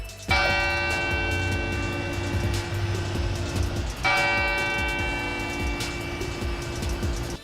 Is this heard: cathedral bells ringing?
yes